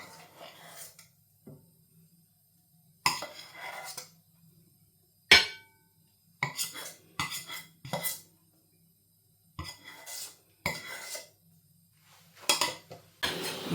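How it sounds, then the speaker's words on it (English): A chicken and mushroom pie is served out onto plates: scattered ceramic knocks and metal utensil clinks in short bursts, separated by near silence, close by. "Serve this out between the plates."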